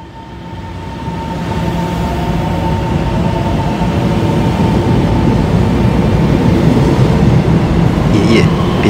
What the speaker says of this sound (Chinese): 这里的火车到不了老家的